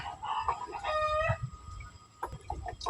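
Chickens clucking and calling close by, with short repeated bursts and a brief drawn-out crow-like call among them over low background noise.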